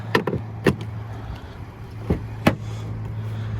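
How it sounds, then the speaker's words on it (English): Fuel filler flap on a 2019 Volkswagen Atlas SEL Premium SUV, opening with a few sharp plastic clicks and pops over a steady low idling hum, close by with no voices. "Gas flap."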